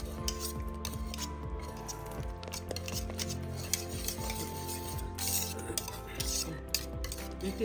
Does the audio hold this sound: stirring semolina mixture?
yes